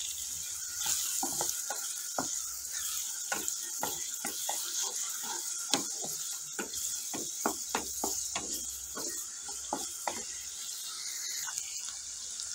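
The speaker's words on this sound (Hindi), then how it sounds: "जी ऑयल गरम हो गया। इसमें ऐड कर देंगे प्याज।" Chopped onions fry in hot oil, a soft steady sizzle with irregular pops and crackles. Stirring sounds come through close up, fairly quiet.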